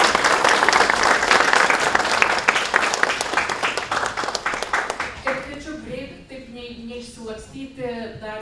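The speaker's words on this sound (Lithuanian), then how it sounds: "Plojimai jums už dalyvavimą ir už klausimą." Audience applause at the close of a cybersecurity breakfast talk, loud sustained clapping from a full hall that fades out, then a voice speaks.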